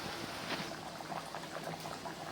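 Vegetable curry with cowpeas and coconut milk simmering in a pot, a steady close bubbling and popping of boiling liquid with no talk.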